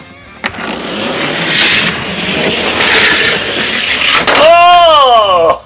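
Toy cars rattling along a plastic track, a continuous close rolling clatter with sharp knocks at the start and near the end, followed by a rising whirring whine, and a voice talking over it.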